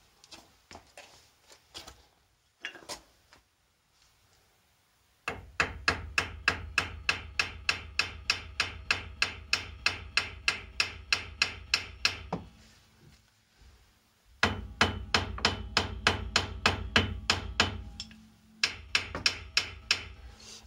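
Repeated hammer blows on a car steering tie rod end, sharp metallic strikes in steady rapid bursts of a dozen or more hits, loud and close, separated by short pauses, with no talking.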